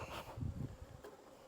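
Honey bees buzzing around production hives during an inspection, a soft, steady hum that is close and fairly quiet, with no talk.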